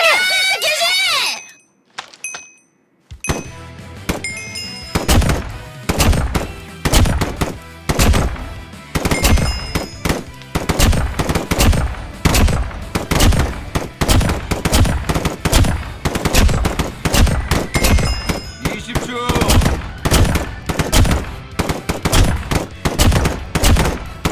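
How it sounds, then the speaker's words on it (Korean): Video game gunfire at a firing range: after a brief lull, rapid shots crack out loud and nonstop for about twenty seconds, overlapping into dense volleys like several rifles firing together. "준비된 사수로부터 사격 개시. 사격 시작!"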